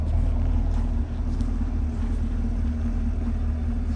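Deep, steady V8 rumble from a 2017 Chevrolet Camaro 2SS idling, a continuous low throb that stays level and close throughout without any talk over it.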